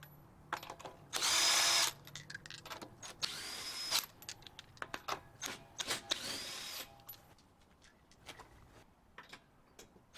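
A power tool works loose the wheels of a Mustang GT in a quiet garage: a short whirring burst, two brief rising whines, and scattered clicks and clunks between them, with no talking.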